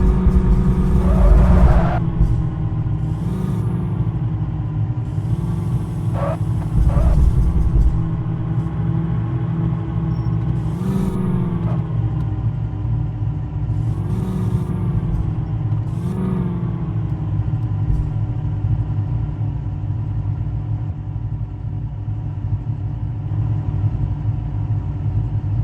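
A jeep engine rumbles steadily and close while the vehicle is driven out, with a few revs rising and falling over a continuous low drone and no talk.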